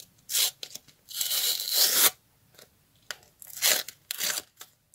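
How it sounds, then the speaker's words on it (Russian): A paper Kinder surprise packet being torn open up close: several crisp tearing and crinkling bursts, one longer rip in the middle, with short pauses between. "Давайте откроем наш пакетик"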